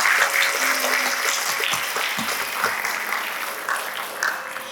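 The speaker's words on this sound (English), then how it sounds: "Let us give another round of applause for our talented musician." An audience at a Bharatanatyam arangettam in New Jersey applauds the musicians. The clapping is sustained, dense and fairly loud, with a faint hum of voices underneath.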